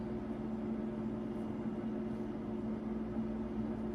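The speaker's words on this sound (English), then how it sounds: "If you can hear my fridge in the background, I'm so sorry." A refrigerator's steady, low electrical hum drones on quietly in the background with no other sounds, even and unchanging throughout.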